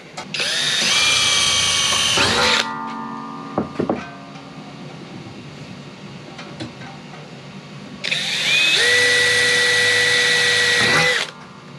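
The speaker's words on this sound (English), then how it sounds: "You can screw these straight through the alley angle, but we're going to pre-drill them." A power drill whines loudly in two bursts, pre-drilling an aluminium angle for mounting solar panels on a van roof, with a few clanks and knocks in the quieter gap between them.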